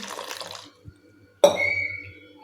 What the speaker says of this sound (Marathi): आता याच्यामध्ये पाणी ओतून स्वच्छ धुवून घेणार आहे